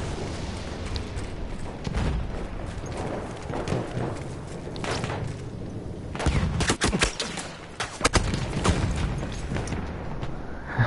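Bursts of gunfire in a PS4 shooter game, rapid irregular cracks and volleys scattered over a busy background, getting sharper and denser toward the end.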